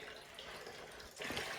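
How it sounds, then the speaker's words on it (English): Water drains from a small-block 350 engine block mounted on a stand, a faint, steady trickle and splash that grows slightly louder near the end. "Got the water draining out of the block right now."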